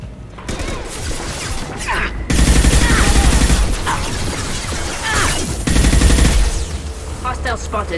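Heavy sustained gunfire in Mass Effect 2 combat, loud overlapping bursts and rattling volleys with booming impacts, pausing briefly between waves of fire.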